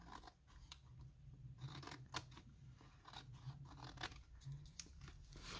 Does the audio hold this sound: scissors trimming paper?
yes